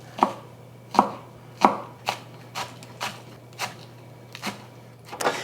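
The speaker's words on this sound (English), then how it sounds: "I'm also gonna slice up a green onion for garnish." A knife slices through green onion on a cutting board in about a dozen crisp, evenly spaced chops, close and clear over a faint steady hum, with no talking.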